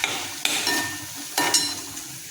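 Potato and brinjal slices stir-fried in spice masala: a steady sizzle of oil with two sharp scraping stirs of the spatula, close and moderately loud, with no voices.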